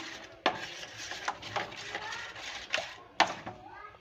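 Food colour is stirred into batter for motichoor ladoo, with a spoon scraping and stirring in a bowl and several sharp clinks against the sides at irregular intervals.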